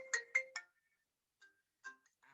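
A cell phone ringtone chirps in a lecture class: three quick bright pulses, then sparser fainter tones after a pause, alone without talk.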